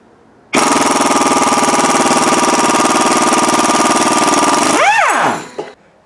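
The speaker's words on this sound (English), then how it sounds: "we're going to use an impact gun because it's way easier and way more fun" An impact gun takes the bolts off a Mercedes W123 during a front bearing job, a loud continuous rattling hammer lasting about four seconds, then winding down with a falling whine, without speech.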